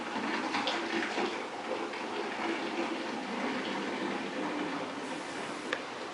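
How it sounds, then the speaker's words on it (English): German altbier wort gushes and splashes steadily into a clear five-gallon container as it is aerated, a constant close churning wash of liquid with no voices. "What I'm doing is aerating the wort."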